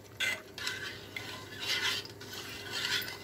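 A spoon scrapes and swirls through coconut-milk chicken soup broth in a pot with aromatics, giving repeated close stirring strokes in an uneven rhythm with light clinks against the metal, and no voices.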